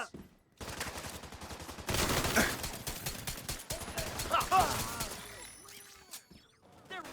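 Enemy gunfire in The Division 2, dense bursts of automatic fire and rapid shots crackling near and loud through most of the stretch, with a shouted voice over the shooting.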